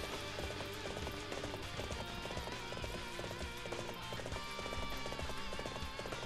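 Steady, rapid clip-clop of galloping horse hooves in Warriors Orochi 3 Ultimate, loud and continuous with a driving rhythm over a dense background.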